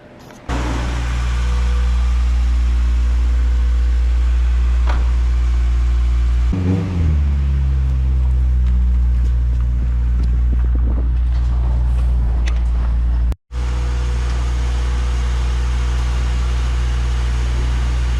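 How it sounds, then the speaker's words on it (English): A JDM Honda Civic EK hatch with a GSR engine fires up and idles with a steady hum, then revs sharply several times, the pitch sweeping up and falling back, loud and close. "We'll fire this thing up and go crack some VTEC."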